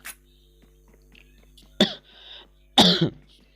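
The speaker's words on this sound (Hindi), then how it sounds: "खांसी अलग से हो रही है, गला खराब है" Two sharp, close coughs from a person with a sore throat, about a second apart, each a harsh burst, with a quiet murmur of background noise between them.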